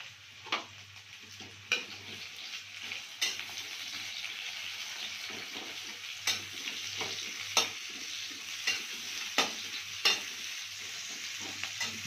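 Onions frying in a pan, a steady close sizzle with sharp scraping clicks of stirring at irregular intervals throughout, no voices.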